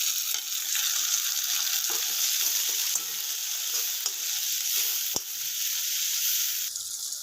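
Tomatoes tipped into a hot frying pan for a capsicum curry give a steady, close sizzle and fry hiss, with a few light clinks and stirring knocks; no one talks.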